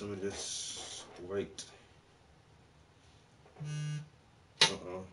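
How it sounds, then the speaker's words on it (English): Phone text message notification buzzing in a painting studio, a short low vibrating buzz followed by a sharp tone, heard between quiet bits of talk. "That's my phone? Is that a text message?"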